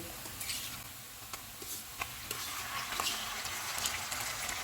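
Chicken frying in a pan with onions and ginger-garlic paste for a boneless handi, a steady soft sizzle with occasional pops and stirring scrapes, no voices.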